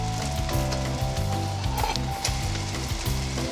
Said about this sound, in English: Scramble them in the wok. Then add the noodles over the top.